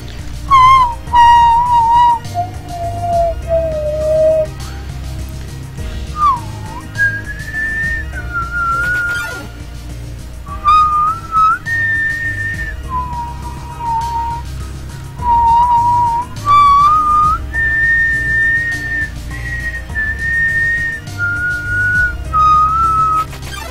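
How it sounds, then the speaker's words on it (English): A person whistles a sustained melody close up, clear tones sliding between notes in phrases separated by brief breaths over faint low background hum. "The only reason I can whistle is because I love Zelda dubstep."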